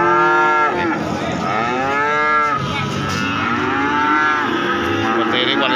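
Loud, drawn-out moos from calves, one after another, close by at a livestock market, with other animals calling over a busy background.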